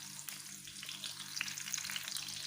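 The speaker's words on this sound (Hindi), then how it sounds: "अब हम इसे हल्का सा फ्राई कर लेते हैं।" Chopped ginger and green chilies fry gently in hot oil, a steady soft sizzle with faint crackles running throughout, close and moderately quiet, with no voices.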